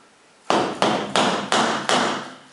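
Hammers are knocked against each other five times in a steady rhythm. Each sharp metallic clack rings out and decays before the next one, close and loud, with no talking.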